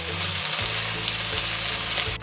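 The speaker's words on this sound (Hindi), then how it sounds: "इसी के साथ हम डाल देंगे मशरूम्स और मशरूम को भी हम 2-3 मिनट के लिए सौते कर लेंगे" Mushrooms and garlic sauté in a pan, giving a steady, loud broadband sizzle with low stirring clatter underneath, continuous for the whole stretch and ending in a brief bright scrape.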